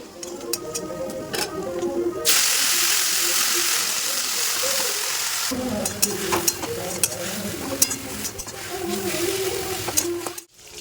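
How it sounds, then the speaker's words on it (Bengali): Broadband sizzling of frying fish in a pan, steady for several seconds, with scattered clinks and stirring knocks and a brief quieter stretch in between. "এখানে মাছ ভাজা হচ্ছে"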